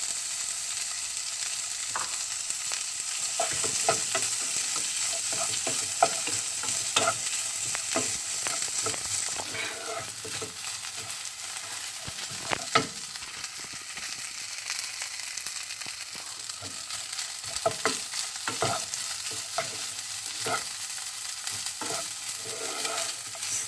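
Rice stir-fried for pineapple fried rice, a constant close sizzle broken by repeated sharp scrapes and clacks of the spatula against the pan.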